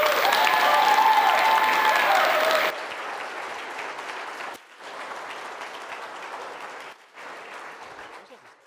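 A debate audience at a Democratic primary for Virginia's 7th congressional district breaks into loud applause that drops to a lighter, steady clapping, with short pauses as it fades.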